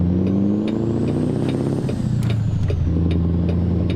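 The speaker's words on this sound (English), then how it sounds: "Is the engine too loud?" A car engine in a modded video game revs loudly and continuously, its pitch sliding down and back up as the vehicle shifts through gears, with a few sharp clicks over the roar.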